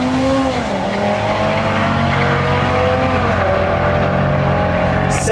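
Audi RS3 Nardo and Ford Mustang V6 racing side by side in a drag race, a loud, sustained engine roar climbing through the gears with brief tire squeal, ending with a sharp burst.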